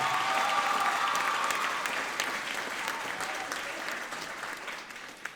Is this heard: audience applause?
yes